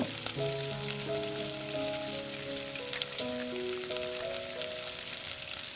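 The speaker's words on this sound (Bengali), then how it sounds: "বাকি পকোড়াগুলোকেও আমি তেলের মধ্যে দিয়ে গোল্ডেন ব্রাউন করে ভেজে নেব" Grated radish pakoras deep-frying in hot oil, a steady dense sizzle and crackle close by, continuous without pauses or voices.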